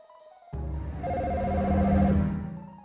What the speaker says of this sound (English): If you set the line to hold, the phone will continue paging automatically.